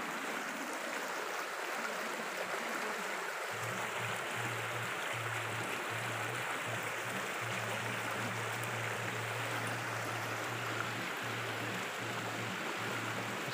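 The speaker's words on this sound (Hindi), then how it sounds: "और ये इसका झरना जो बह रहा है।" A forest waterfall near Karagal village in the Kalash valleys, rushing in a steady broadband roar throughout, with a low intermittent hum joining partway through.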